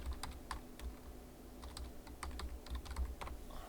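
Computer keyboard typing at close range, a quick run of soft clicking keystrokes in an irregular rhythm over a low background hum.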